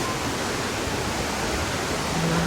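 Devkund waterfall in Maharashtra in the monsoon, a steady roaring rush of falling water filling the scene, loud and unbroken with no voices.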